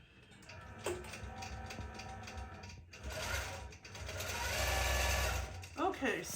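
Embroidery machine stitching a mermaid tail pattern, a steady rapid mechanical whirring and clattering with small rhythmic ticks, close by, with a voice talking over part of it.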